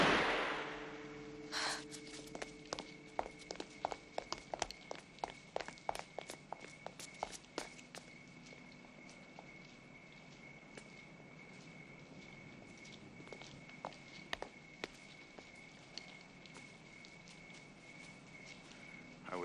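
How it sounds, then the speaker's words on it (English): Hurried footsteps in an old radio ghost drama sound effect, a rapid run of sharp steps that slows and fades into sparser, fainter steps over a steady background hum with a high whine. "There were footsteps."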